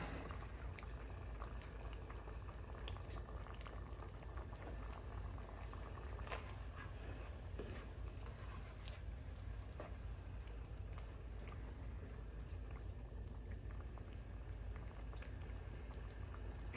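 Berbere-spiced chicken stew comes to a boil in a pot, giving a dense, steady bubbling and popping that stays constant and fairly quiet with no talk.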